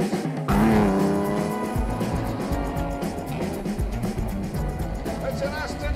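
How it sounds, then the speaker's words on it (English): An Aston Martin DB4 GT Lightweight, a late-1950s British classic sports car, roars past with a loud engine note that settles into a sustained rumble, with someone talking over it. "It's an Aston Martin DB4 GT lightweight."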